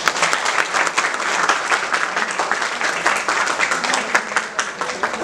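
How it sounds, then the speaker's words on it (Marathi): An audience claps together in dense, sustained applause, steady and fairly loud throughout, with no talk over it. "त्यामुळे त्यांच्यासाठी सर्वांनी एकदा टाळ्या वाजवा."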